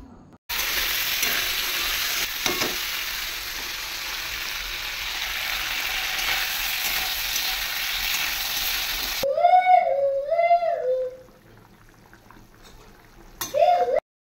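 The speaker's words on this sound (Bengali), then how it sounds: "এখন এই যে আলুটাকে একটু ভেজে নিচ্ছি।" Potatoes frying in a pan make a steady, loud sizzle for several seconds. The sound then cuts to a separate stretch where a voice is heard over quieter background.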